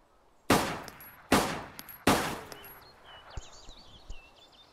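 Pistol gunfire in the DayZ video game: three loud, sharp shots spaced under a second apart, each with a brief decaying tail, followed by quieter clicks and faint chirping ambience.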